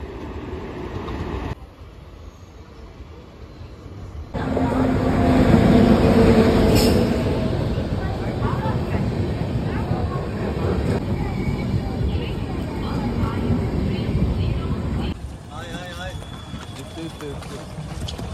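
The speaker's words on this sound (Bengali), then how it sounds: "10:18 আমাদের ট্রেন খাগড়াঘাট রেলওয়ে স্টেশন থেকে ছাড়লো" A Kamrup Express train pulls out of Khagraghat railway station, heard from inside a general coach. A steady rolling rumble swells louder partway through and then settles, with faint voices in the background.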